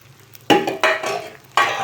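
A spoon stirs masala kolukkattai, steamed rice dumplings, through tomato sauce in a pan. Three distinct scraping strokes sound close and fairly loud, each a rough swish against the metal.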